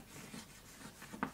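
Chalk scratches faintly across a classroom blackboard as a teacher writes during a primary-school maths lesson on triangles in Benin, with a few soft strokes and a slightly sharper scrape near the end.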